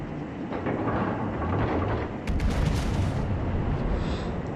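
Naval guns of the German battleship Pommern fire in a video game, a heavy rumbling boom swelling midway through with crackling bursts, over a constant low engine-like roar.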